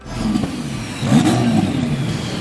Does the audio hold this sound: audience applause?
no